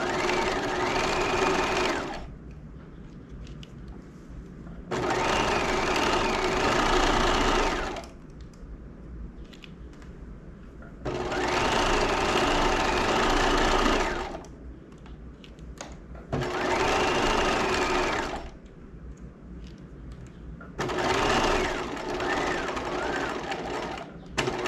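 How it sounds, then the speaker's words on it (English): A sewing machine runs in five steady bursts, stitching quilt fabric toward the raw edge, each run lasting a few seconds with short quiet pauses between, close and fairly loud. "now we can start stitching again on the other side"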